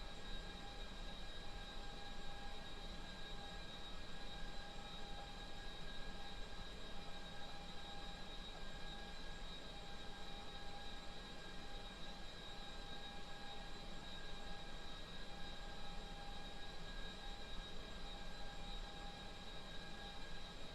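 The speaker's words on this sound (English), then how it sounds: "Engine startup sequence underway." Aircraft engines roar steadily through a startup sequence, a continuous broad drone with a sustained whine layered on top, holding even and moderately loud throughout with no voices.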